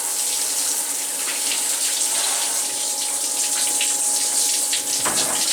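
A small submersible pond pump circulates flood coolant for a machine tool, giving a steady, close hiss of running, splashing water like a faucet into a basin, continuous and even throughout with no talking.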